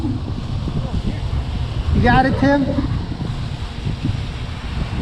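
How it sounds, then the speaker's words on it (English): Strong gusty wind buffets an outdoor microphone while a Zino 2 drone flies in roughly 20 mph gusts, a steady broadband roar with a brief swell near the middle and a voice speaking over it. "Really got gusty there."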